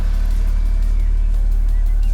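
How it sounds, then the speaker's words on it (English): A BMW N46 four-cylinder engine idles steadily after a Valvetronic replacement, a loud, close, even low rumble with a faint high whine over the top and no voices. "just making sure the engine is running okay"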